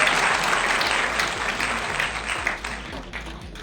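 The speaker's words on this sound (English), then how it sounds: "Please have a huge round of applause for Priyanka ma'am." Audience applause greets a workshop speaker at a university pharmacy week event: dense, sustained clapping from a large crowd, steady and loud, slowly thinning toward the end with no voices over it.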